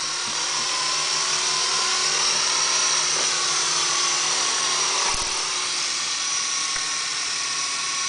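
A remote-control Chinook model helicopter flies nearby with a continuous high-pitched electric motor whine and buzzing rotor noise, steady and loud throughout, with no talking.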